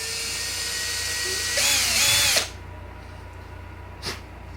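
A power drill whines in a short burst as it bores holes into a BMW M4 Competition, close and loud, then cuts off, followed by a faint brief knock.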